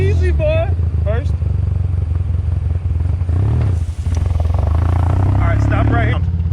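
Car with a manual transmission being driven by a learner, its engine droning loudly and steadily throughout with rising and falling revs, while people talk and call out over it.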